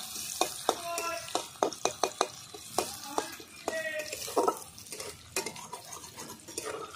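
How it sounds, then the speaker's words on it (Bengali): Chopped onions with whole cumin seeds and two bay leaves frying in oil for a carp fish curry with peas and potatoes, with steady sizzling and frequent spoon scrapes and clinks against the pan, close and moderately loud. "তেলের উপরে দিয়ে দেব আমি গোটা জিরে তেজপাতা দুটো আর দেব কেটে রাখা ছোট ছোট 3টে পেঁয়াজ কুচি"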